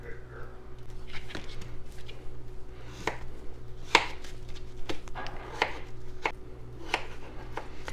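Knife chopping carrots and potatoes on a cutting board for split pea soup, a quiet, irregular series of close taps over a low steady hum.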